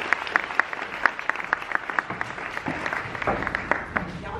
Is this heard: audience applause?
yes